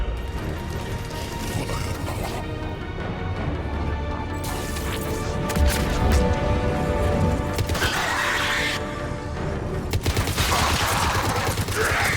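Gunfire in the Mass Effect 3 video game, dense bursts of shots and crashes layered over game music and effects, with an intermittent voice among them.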